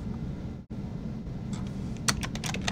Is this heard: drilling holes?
no